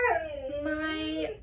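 Dog close by letting out a short, wavering howl along with a musical saw being played, the pitch sliding down and then rising again.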